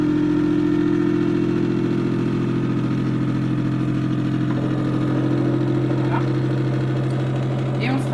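A BeSave vacuum sealer pump draws air from a small 0.5-litre container, producing a loud, steady motor drone with a constant hum that runs without a break, while faint voice traces surface near the end.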